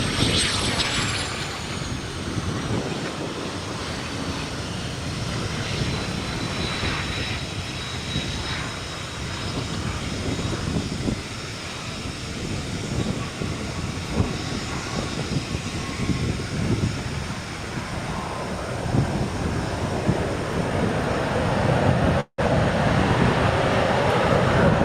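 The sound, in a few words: business jet aircraft at Austin-Bergstrom airport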